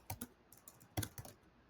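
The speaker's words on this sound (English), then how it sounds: "My horrid typing skills this morning." Quiet bursts of computer keyboard typing, a few quick keystrokes in two short clusters with pauses between, close and faint, no talking.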